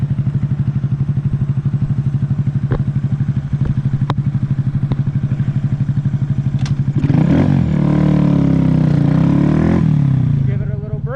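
Idling with a fast steady putter, a Honda Grom motorcycle then takes off for a wheelie, its engine surging loud and close with a rising rev before dropping off.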